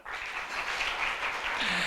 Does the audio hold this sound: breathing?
no